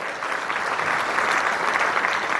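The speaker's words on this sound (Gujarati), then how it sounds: "જોરદાર તાળી જોડાવો" A crowd at a family community gathering claps in steady, dense applause, loud and sustained throughout.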